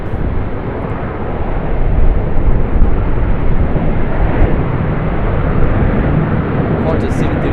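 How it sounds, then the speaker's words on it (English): A Qantas Boeing 737-800 with split winglets departing runway 25 at Sydney Airport, a dense, steady jet roar filling the whole stretch, loud and continuous. "Qantas 737-800 with those lovely split winglets, departing off from 25."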